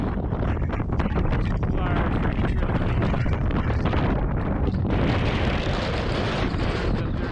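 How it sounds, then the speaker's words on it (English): A strong, constant wind roars and batters the microphone with heavy rumbling noise that never lets up, high on a mountain trail to Sky Pond in Rocky Mountain National Park. "It is so windy up here, which is not uncommon."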